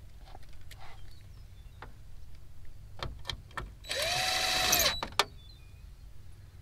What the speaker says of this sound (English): then we can go ahead and start running in our bolts